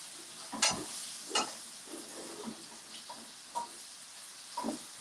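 Tofu browns in a pan as it is nudged around, a soft, quiet sizzle broken by a few sharp scrapes and clatters of the utensil against the pan.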